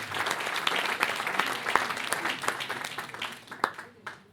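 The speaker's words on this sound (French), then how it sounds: "Et on peut vous applaudir." An audience at a gathering of business club members applauds, a steady patter of many hands with a few sharper nearby claps, moderately distant and fading toward the end.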